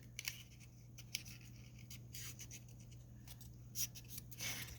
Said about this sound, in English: Let's fold this over.